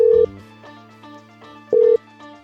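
Two short bursts of a telephone ringing tone, separated by a long pause, over a faint steady tonal background.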